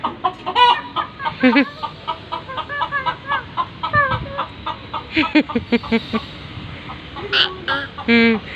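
Two chickens brought as offerings at Edappally church cluck and squawk close by in short, irregular bursts.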